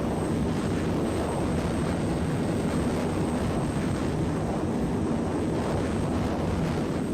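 A jet aircraft flying in the ArmA video game, a steady, dense engine roar holding at one level throughout, loud and continuous with no talk.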